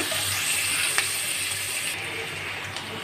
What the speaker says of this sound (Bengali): এবার আমি দিয়ে দেবো পেঁয়াজ কুচানো কিছুটা দিয়ে পেঁয়াজটাকে একটু হালকা নেড়ে করে নেব